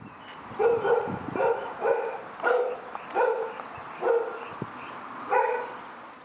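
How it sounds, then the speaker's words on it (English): A neighbour's dog, played back from a recording, barks in a series of about seven hoarse, slightly howling woofs spaced roughly a second apart, moderately loud over a low background hum. "playing a recording of the dog's howls outside the firm that handles dog complaints"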